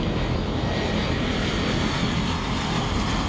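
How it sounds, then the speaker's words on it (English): A Boeing C-17 heavy transport aircraft flies at the Wings and Wheels 2022 airshow, and its engines give a loud, steady, broadband roar that holds for a few seconds with no voices. "Magnificent heavyweight aircraft began flying in early that morning, including this C-17."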